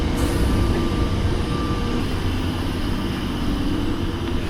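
A London Underground train running toward Arnos Grove, a loud continuous low rumble of wheels and motors with steady cabin noise, no talk.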